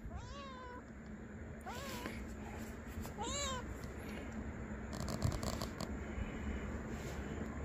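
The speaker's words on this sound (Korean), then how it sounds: "이 새끼 고양이네 얘" A small kitten meows outdoors at a winter car-camping spot, three distinct rising-and-falling mews spaced a few seconds apart over steady low background noise, fairly close but soft, with no one talking.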